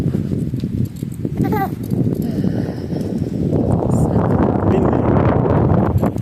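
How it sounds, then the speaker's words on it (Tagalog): Strong mountain wind in the Romanian Carpathians buffets the microphone in a continuous roar, rising louder toward the end, with a brief creak or call partway through. "Super windy."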